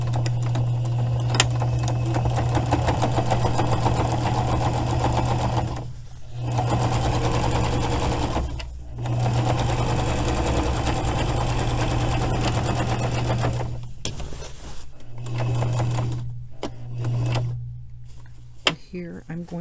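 A sewing machine stitches a patch onto a bulky jacket pocket in several bursts of rapid, even whirring, with short pauses between runs, close and clear and without talk.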